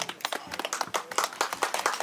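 Audience applause at a celebration, a brisk run of many hands clapping close and steady throughout, with no voices over it.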